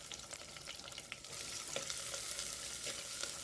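Onions with curry leaves and dried berries sautéing gently in a pan, a soft, fairly quiet sizzle with light stirring clicks, growing slightly louder partway through.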